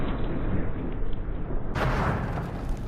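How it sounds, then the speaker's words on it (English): A remote explosive goes off in the video game Hitman 2 at Whittleton Creek, a loud broad rumbling roar that swells sharply midway and keeps churning to the end. "then we'll trigger the explosion, and we're going to make him disappear in a big black cloud"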